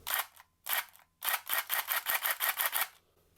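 Modified Nerf Rapidstrike blaster with a select-fire solenoid kit shooting in semi-auto: separate sharp mechanical clacks, three spaced shots followed by a quicker run of about eight even, close, loud shots, with no talking.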